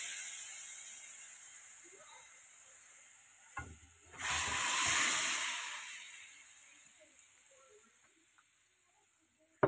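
Fish curry gravy pours into a hot pan and bursts into a loud, broad sizzle that rises sharply, holds for about two seconds, then fades to a quieter steady hiss.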